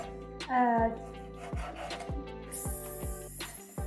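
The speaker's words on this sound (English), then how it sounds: "let's cut the meat" A knife slices meat into pieces on a board with regular, evenly spaced cuts, each a short thud. Music plays underneath and a voice is briefly heard.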